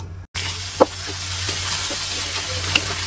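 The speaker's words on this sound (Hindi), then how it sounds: "ऑनियन को भी बस थोड़ा सा फ्राई करेंगे" Rice and chopped onion frying in a pan with a steady close sizzle, a brief gap near the start, and a couple of soft spoon scrapes and clinks against the pan.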